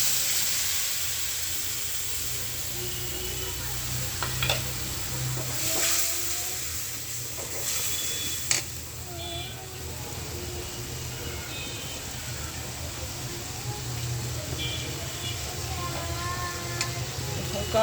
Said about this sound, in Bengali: এখন এই তেলের মধ্যে আমি মশলাগুলো সব দিয়ে দিব,